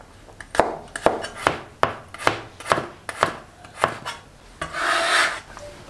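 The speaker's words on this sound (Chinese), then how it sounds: "切成蒜片。" A knife chops garlic cloves into slices on a cutting board, giving about nine crisp, evenly spaced chops up close, followed by a brief scraping rub at the end.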